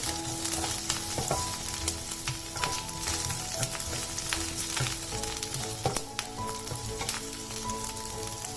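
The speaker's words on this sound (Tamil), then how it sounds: "கருவேப்பிலை, இஞ்சி, பூண்டு, பச்சை மிளகாய் இது எல்லாத்தையும் சேர்த்து நல்லா ஃப்ரை பண்ணிக்கலாம்." Curry leaves, ginger, garlic and green chilies fry in oil for a Kerala kadala curry, producing a dense, crackling sizzle that stays steady and close throughout, with a few faint stirring scrapes and no voices.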